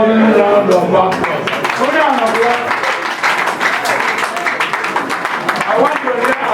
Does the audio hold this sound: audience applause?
yes